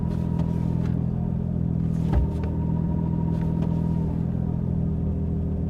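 A Nissan R33 Skyline GT-R fitted with a UniClutch twin plate clutch idles with a steady low engine rumble, one brief thump midway, heard close and even throughout without any rattle.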